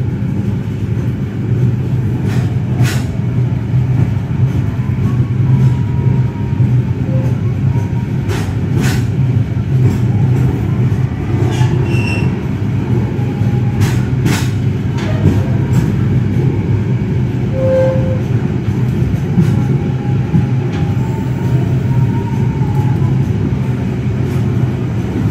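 A KA Senja Utama YK passenger train on the Jakarta–Yogyakarta line rolls along steadily, a continuous low rumble heard from inside the carriage with faint squeals and clanks over it, no talk.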